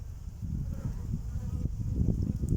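Bees carrying pollen into a garden hive on a mild, grey late-February day make a close, steady buzzing drone, continuous throughout with a few louder passes near the end.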